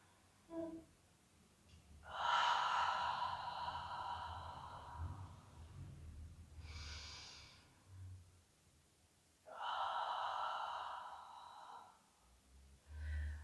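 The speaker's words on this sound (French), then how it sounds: "J'inspire." Deep breathing during a Pilates exercise, with several long audible breaths drawn and released close by at a slow, even pace, separated by quiet pauses, without talking.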